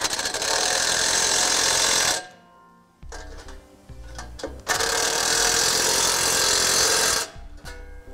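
Air tools or a ratchet run in loud, sustained bursts while bolts are tightened on Air Lift 1000 air helper springs for coil springs, with a short pause of lighter clicks and clanks between the two long runs.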